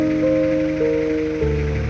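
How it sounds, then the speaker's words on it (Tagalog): Heavy rain pours steadily on a moving vehicle while driving, a loud continuous wash of drops on the body and windows over the low hum of the engine and road. "lumakas na naman yung ulan"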